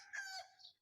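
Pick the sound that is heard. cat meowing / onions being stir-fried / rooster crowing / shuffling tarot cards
rooster crowing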